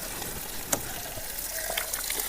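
Water strained through a double filter system pours out in a steady, close gush with a faint splashing texture, heard alone without talk.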